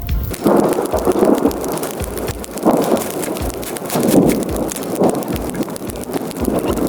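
Steady heavy rain pours down during a thunderstorm in a garden, with low rolling thunder swelling in repeated waves over about seven seconds, loud and close, with no voices.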